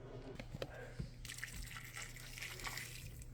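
Water poured into a pot of pot roast as it cooks: a soft, continuous splashing pour with a few drips and faint liquid noise over a low background hum.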